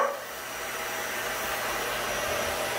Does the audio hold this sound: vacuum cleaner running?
yes